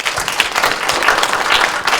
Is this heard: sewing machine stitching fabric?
no